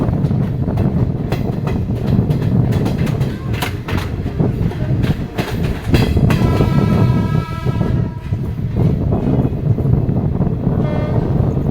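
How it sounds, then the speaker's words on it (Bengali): A train running toward Sealdah pulls into Dum Dum station, with loud continuous rumble and rail clatter throughout and a rising tonal squeal or horn-like whine in the second half as it slows. "আমাদের ট্রেন ঢুকছে এখন দম স্টেশন দমদম স্টেশনে প্রায় এসেই গেছে"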